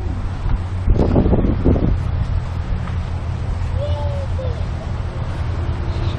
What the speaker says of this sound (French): Avec beaucoup de vent.